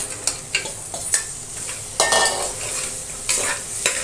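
Goat trotters for paya soup drop into hot oil with turmeric, tempering and roasted poppy seeds, setting off a loud sizzle broken by repeated sharp scrapes and clinks as they are stirred around the pan.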